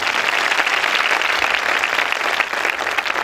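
A church congregation breaks into loud, dense applause after singing happy birthday to the church at a Pentecost Sunday service, a steady wash of many hands clapping throughout with no voices standing out.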